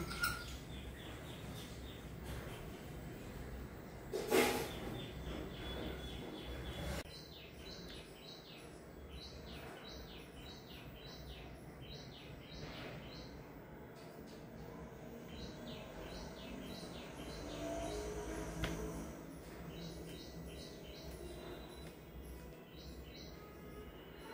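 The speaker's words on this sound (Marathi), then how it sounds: "त्यामुळे सतत पक्ष्यांचे आवाज येतात" Birds chirp in short repeated calls, quiet and somewhat distant, over a steady low background hum.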